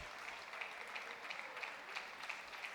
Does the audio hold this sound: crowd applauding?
yes